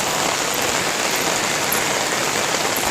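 Rain falls steadily outdoors, a dense, even hiss of drops hitting surfaces close around, continuous and without voices.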